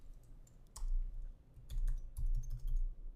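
Code being typed on a computer keyboard in quick, uneven bursts of close, crisp key clicks with brief pauses between runs, and no talking.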